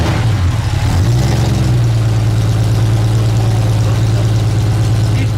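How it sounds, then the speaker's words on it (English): A twin-turbo Porsche with an RWB-designed restored body idles in a steady, loud, close low rumble, with a slight rise in revs near the start and no talking. "As far as the engine, had an expert tuner take this vehicle to a whole nother level with the twin turbos."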